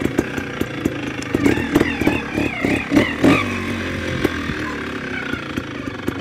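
SWM 320 motorcycle engine running on a test ride, pulling in first gear with a loud, rough mechanical drone and several sharp throttle bursts early on, then settling into a steadier run.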